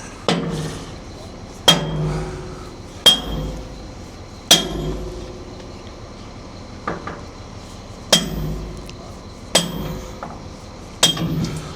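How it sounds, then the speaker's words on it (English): Hammer blows on metal during repairs to a Caterpillar 930H loader, sharp ringing strikes at irregular intervals of roughly one to two seconds, close and loud, each with a brief metallic decay. "Good job we got a good man on hammer"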